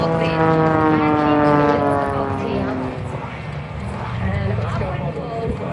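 An aerobatic plane tumbling at the Avalon Airshow gives a droning propeller engine note that rises and falls in pitch, heard at a distance beneath a person talking.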